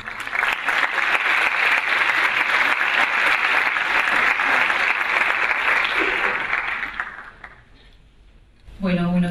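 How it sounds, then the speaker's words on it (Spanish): Strong audience applause at a conference event welcoming a speaker, a steady roar of clapping that fades away near the end, after which a voice begins speaking. "quiero pedirles un fuerte aplauso para darle la bienvenida a Carolina"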